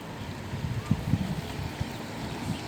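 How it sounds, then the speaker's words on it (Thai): Wind gusts at an open field where a 100 cm yellow Chula kite from Korat flies high, a steady rushing breeze buffeting the microphone with low rumbling bursts throughout. "ลมมันยังไม่นิ่งครับ"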